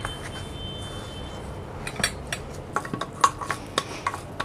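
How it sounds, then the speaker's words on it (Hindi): Sweet dough being mixed by hand in a bowl, soft irregular squishing and scraping that grows busier with sharper clinks against the vessel toward the end, no talk. "अब अच्छे से हाथों से हम मिक्स कर लेंगे"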